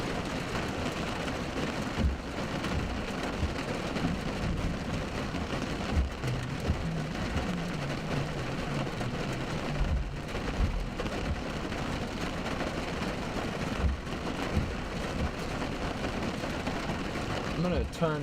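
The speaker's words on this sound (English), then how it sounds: "The rain is heavy. It is coming down hard," Heavy rain drums steadily and loudly on a vehicle roof during a severe storm in Texas or Louisiana, with low thunder rumbling at intervals beneath the constant downpour.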